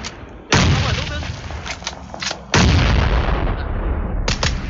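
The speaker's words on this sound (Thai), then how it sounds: "เฮ้ยระเบิด" Two heavy, booming explosions go off in a shooter video game, each loud and sudden, with rumbling gunfire-like crackle trailing after.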